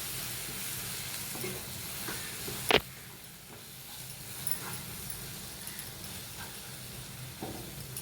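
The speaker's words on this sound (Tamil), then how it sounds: "நல்லா பச்சை வாசனை போகிற வரைக்கும் நல்லா வதக்கிக்கிங்க" Prawn masala sautéing in a pan, a soft steady sizzle with occasional stirring scrapes and one sharp clink of a utensil against the pan, alone without talk.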